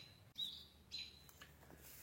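A brown creeper calls in the wild near a sheet-metal roof, giving a few thin, high chirps in quick succession, faint and alone.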